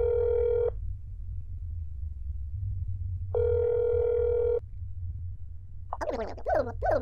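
Two steady, loud telephone tones sound alone from the game That's Not My Neighbor, each lasting about a second or more with a pause between, followed by a short burst of warbling electronic chirps at the end.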